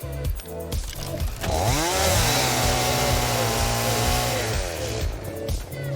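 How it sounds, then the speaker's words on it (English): Chainsaw cutting into a coral-like structure in the game Satisfactory: a loud buzzing engine revs up, holds a steady high-pitched whine through the cut for several seconds, then drops back down. "this coral-looking structure will give me mycelium if I chainsaw it"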